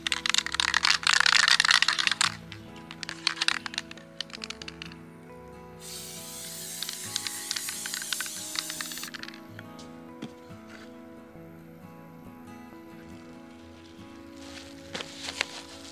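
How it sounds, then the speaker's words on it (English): Spray adhesive hissing onto cut sheets of Reflectix insulation for car window covers: a loud burst of spray, then a second, longer hiss after a short pause, with faint handling noise and no talk. "I'm going to spray it with my adhesive"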